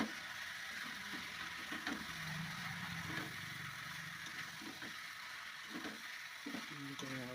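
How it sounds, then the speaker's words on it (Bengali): Chili chicken with potatoes stirred in a frying pan, a low sizzle running throughout with scattered scraping and clinking of the spoon against the pan. "নুন দিয়ে এবার নেড়ে চেড়া নেড়ে চেড়ে নেওয়া হবে"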